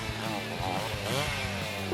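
Two saws cutting into material for a homemade pop-it fidget toy, a steady close buzzing, grinding drone that holds without a break.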